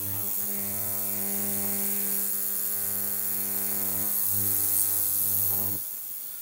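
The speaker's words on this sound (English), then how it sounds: "we'll turn on the ultrasonic cleaner itself anyway" A cheap Chinese ultrasonic cleaner runs with a steady electrical hum and buzz, a faint high hiss above it, heard close by the microphone. The buzz swells briefly near the end, then fades.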